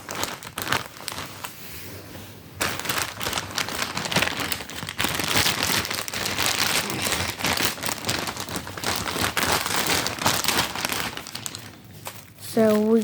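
Plastic packaging of a Casio W-96H watch being unwrapped, loud continuous crinkling and crumpling right up close, with a voice talking briefly near the end.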